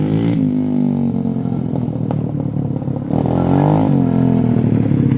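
A Honda 400ex ATV engine running strong after a cleared fuel line, loud and close, with a steady idle rising and falling through several revs and some mechanical clatter, no talk.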